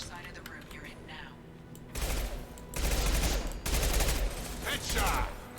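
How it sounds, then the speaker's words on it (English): Impact shot gunfire in the Mass Effect 2 video game, several loud, sustained bursts of firing that come in waves after a quieter opening, mixed with game noise and voices. "Firing an impact shot."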